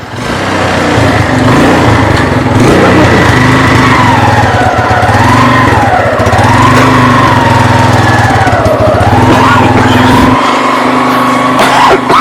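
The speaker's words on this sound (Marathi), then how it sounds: "मी बाईक चालू केली आणि हा बसला आता चालवायला" A motorcycle engine runs just after being started, a loud, steady close-up drone that holds for the whole stretch, its pitch wavering slightly as the throttle shifts.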